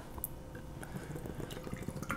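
Hazy IPA beer poured from a freshly opened can into a glass, a soft, close glugging trickle with faint fizzing and small splashy bursts, quiet and continuous without talking.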